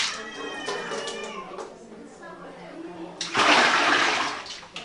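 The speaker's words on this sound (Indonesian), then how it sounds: "Siram air." A toilet flushes with a loud rush of water near the end, while a cat meows repeatedly beforehand and a voice speaks softly in the background.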